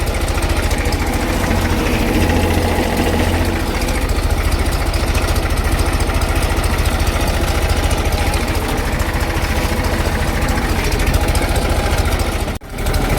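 A tractor engine chugs steadily up close during a groundnut harvest in a field, its rumbling throb unbroken except for a brief dip near the end.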